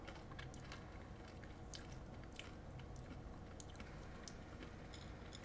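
Hard candy being crunched and chewed close to the microphone, with dense crackling bites and grinding repeating steadily for several seconds and no talking.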